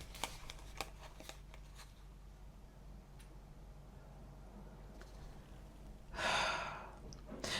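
Tarot cards being shuffled and drawn from a deck: a few soft flicks and taps early on, then a quiet stretch and a brief riffling burst near the end.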